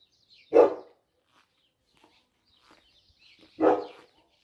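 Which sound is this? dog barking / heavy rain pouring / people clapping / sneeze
dog barking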